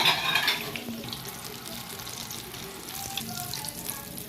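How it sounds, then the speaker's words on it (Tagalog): Eggplant slices coated in tempura batter fry in hot oil, giving a steady close crackling sizzle with soft bubbling throughout, no voices. "At atin na nga magkabilaan yan hanggang sa crispy fry talong."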